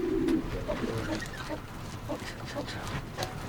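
Soft cooing from pigeons nearby, low throaty calls repeating among faint background voices and ambient noise.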